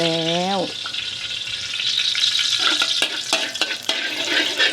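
Rice being stir-fried in a pan, a steady loud sizzle with scraping and clinking of a utensil against the pan, after a brief voice at the start.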